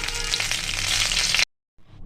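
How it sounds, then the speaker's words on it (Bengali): Fish sizzles loudly in hot oil in a home kitchen, with a dense, crackling hiss, then cuts off abruptly before a fainter sizzle resumes. "মাছটাকে ভালো করে ভেজে নিয়েছি"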